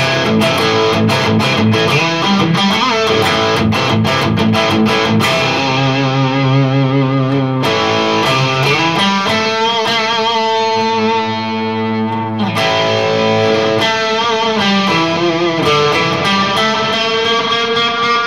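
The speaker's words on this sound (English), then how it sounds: "So let's try it with some distortion on it" An electric guitar plays heavily distorted chords and sustained notes, loud and continuous with a few brief breaks, no voices.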